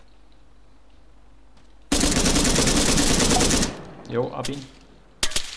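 A loud, sustained burst of rapid automatic gunfire in ARMA 3 lasts about two seconds, followed by a short spoken remark and one more brief shot.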